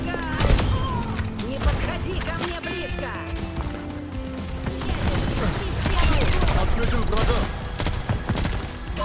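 Rapid bursts of Overwatch 2 gunfire crackle and clatter over mechanical clicks, with a voice talking throughout.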